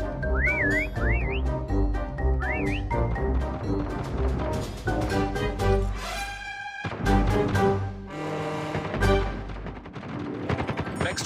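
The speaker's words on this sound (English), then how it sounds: "Next whistle in 10 seconds." Several rising, melodic whistles sound in quick succession amid dense gunfire and explosions during a Call of Duty Mobile prop hunt match, loud and busy throughout.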